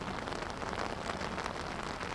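Rain falls steadily at an outdoor Honor Flight ceremony, a dense, loud, even hiss of drops hitting surfaces with no talking.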